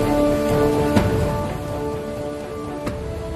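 Heavy torrential rain in Uttarakhand pours in a dense, steady hiss with a few sharp drop impacts standing out, and a faint tonal hum runs underneath.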